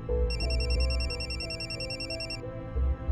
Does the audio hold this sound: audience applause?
no